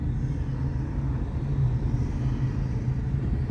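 Steady road traffic rumble in Dubai heading toward Sheikh Zayed Road, heard from inside a car as a continuous low drone with no clear passing events.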